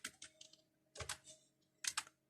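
A computer keyboard clatters in three quick bursts of keystrokes while C code is typed, each flurry of close, crisp taps separated by short pauses.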